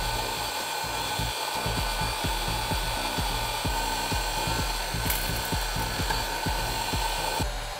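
Hair dryer blowing steadily on a wet BMW air suspension compressor part during repair, a constant close whir with a faint regular ticking underneath and no talking.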